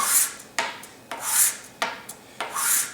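An acrylic brush handle is rubbed back and forth on sandpaper laid on a countertop, giving five rhythmic, close, gritty rasping strokes with sharp starts and hissy tails, with no talk.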